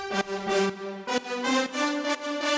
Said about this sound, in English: So my brass sound sounds like this.